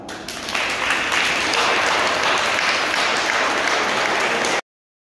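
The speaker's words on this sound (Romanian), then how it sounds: "Vă invit să-i aplaudați!" An audience at a school sports event applauds a group of young athletes, with thick continuous clapping that swells quickly, holds steady for several seconds and then cuts off abruptly.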